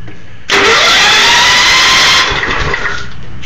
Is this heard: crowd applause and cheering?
no